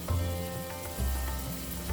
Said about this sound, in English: So while our onions are getting fried